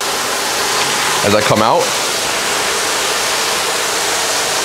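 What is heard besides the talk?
backyard pool waterfall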